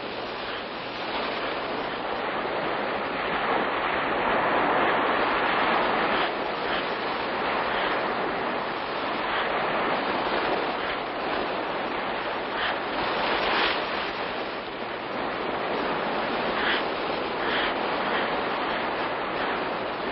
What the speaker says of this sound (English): The waves have restored the beach to its original condition.